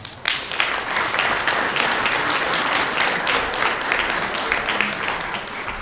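Steady, full applause fills an awards ceremony at a national conference of medical software users, loud and continuous from start to finish with no talk over it.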